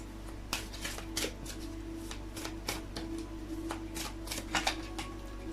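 Oracle cards being shuffled and drawn during a Taurus love reading, with a run of crisp, papery flicks and slides that come in uneven bursts over a steady low background hum, and no voices.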